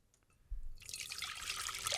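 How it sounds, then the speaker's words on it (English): Tea, Twinings Lady Jane blend, poured into a cup: after a quiet start, a steady close trickle of liquid rises and holds, bright and splashy, with no talking. "I love that pouring sound."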